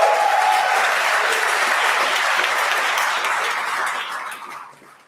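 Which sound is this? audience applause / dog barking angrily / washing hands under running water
audience applause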